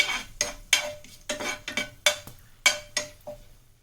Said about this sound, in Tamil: ஆயிலில் பட்டை, லவங்கம், ஏலக்காய், பிரியாணி இலை போட்டுக்கலாம். இது கொஞ்சம் ஒரு 2 நிமிஷம் வதங்கணும்.